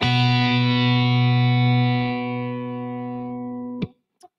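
Two notes struck together on a kite guitar ring out as a sustained, steady dyad with a slightly buzzy tone, slowly fading before a sharp click cuts it off near the end.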